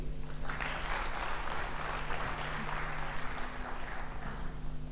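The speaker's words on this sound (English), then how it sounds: "can I have a bigger applause," A talk audience applauds steadily, a dense wash of clapping that holds at a moderate level throughout, with a faint low hum beneath.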